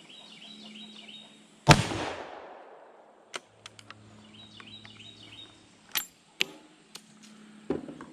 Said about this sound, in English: Let's send another bullet from the Marlin and see what it'll do.